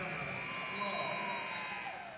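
A game buzzer sounds at the end of the half in a girls 1A high school basketball quarterfinal, a sustained electronic tone over gym crowd noise, with a commentator talking.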